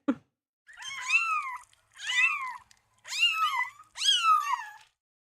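Four drawn-out meows from a cat, evenly spaced and close, each rising then falling in pitch, with silence between calls.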